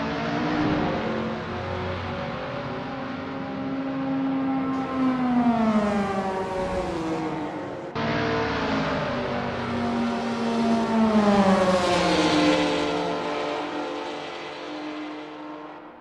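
A Mini Marcos MK1 GT race car in Assetto Corsa accelerates hard with a loud, rising engine whine. The pitch climbs, snaps down at a gear change, then climbs again before easing off, with no talking.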